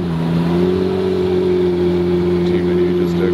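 A McLaren Spider's exhaust rumbles with a strong, steady engine note, close and loud, holding one pitch through the short stretch rather than swelling into a rev.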